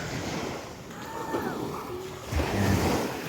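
Calm sea lapping on a stony, pebbly beach on a walking tour in Bicol, a soft continuous wash with a gentle swell of surf near the end, some wind noise on the microphone.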